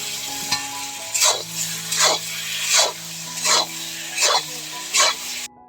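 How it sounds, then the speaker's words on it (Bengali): Meat with three whole garlic cloves fries in a pan while being stirred, giving regular scraping strokes about every second over a constant sizzle, with faint tonal background sound. "এখন ভালো করে কষতে থাকুক।"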